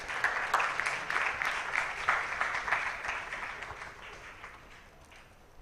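An audience gives a round of applause at a live tech presentation event, with moderate steady clapping that gradually fades out.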